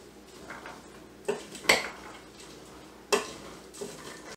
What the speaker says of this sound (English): So I'm going to give it a good stir.